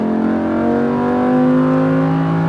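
A Lamborghini Huracan on a track pulls under throttle, its engine loud and close with a strong, smooth note climbing gradually in pitch as the car accelerates.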